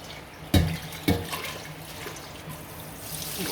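Water pours into a pot to rinse out starch, opening with two sharp splashes followed by a steady soft running trickle under a faint kitchen background.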